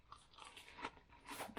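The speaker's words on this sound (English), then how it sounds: "They're crunching." Someone bites into a crunchy carrot croquette, making quiet, close crunches and crackles in a few bursts, with the loudest snap near the end.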